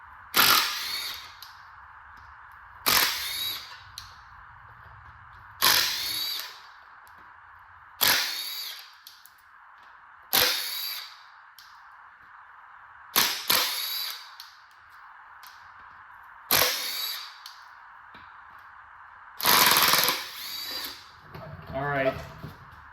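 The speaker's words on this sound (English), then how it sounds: "first things first, take these 10 mils out." Power tool spinning out 10 mm bolts from a Jimmy engine, eight short sharp bursts at regular intervals with quiet gaps between, close and loud, with someone speaking at the end.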